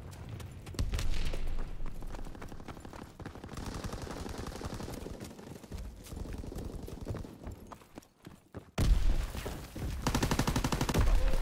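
Continuous gunfire in Call of Duty: WWII, with rapid machine-gun bursts and shots rattling loudly and close, overlapping with battle noise that jumps in intensity near the end.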